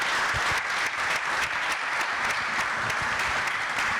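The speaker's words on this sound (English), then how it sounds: "let's give a round of applause for our panelists" An audience claps steadily for the panelists at the close of a deep tech investment talk, a dense, even round of applause with no voices over it.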